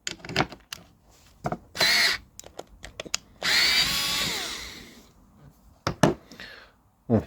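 A cheap Action cordless screwdriver, sold for 19.99€, drives screws in close bursts: a short whir, then a longer straining run whose pitch drops as the screw seats. Sharp clicks and handling knocks fall between the runs.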